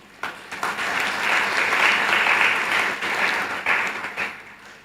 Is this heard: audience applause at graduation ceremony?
yes